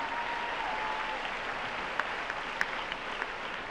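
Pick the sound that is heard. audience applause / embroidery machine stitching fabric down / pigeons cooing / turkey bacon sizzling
audience applause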